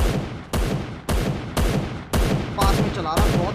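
Gunfire in the mobile shooter Free Fire comes as loud, close bursts, roughly six sharp shots spaced about half a second apart, with a voice briefly speaking near the end.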